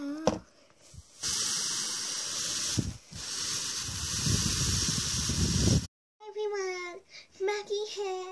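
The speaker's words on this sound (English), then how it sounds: "Spray, spray, spray time." Aerosol spray can hissing in a long, steady burst of several seconds, then an abrupt stop followed by a child's high, sing-song voice.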